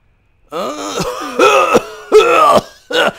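A Final Fantasy 8 character coughs in a string of four harsh, groaning bursts, close and loud, each separated by a short pause.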